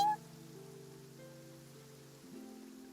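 Steady rain falls in the Fontaine area of a video game, a soft, even hiss of drops that continues throughout beneath sustained, low musical tones, with no voices.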